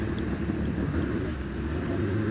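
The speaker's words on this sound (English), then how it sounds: "So revs rising, going through the launch control system." A British Championship hillclimb race car at Harewood holds steady, loud engine revs through launch control on the start line, a dense continuous low rumble with no pause.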